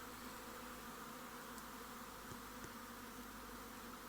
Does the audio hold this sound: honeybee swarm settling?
yes